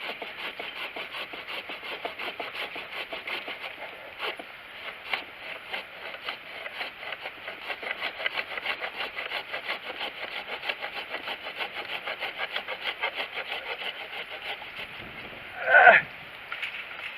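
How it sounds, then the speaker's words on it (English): A 13-inch Fanno pruning saw cuts through 4-inch diameter wood, making a steady, close rasping of rapid back-and-forth strokes that run continuously, with a brief louder scrape near the end. "this is another 4-inch piece of wood right here that I'm going to cut"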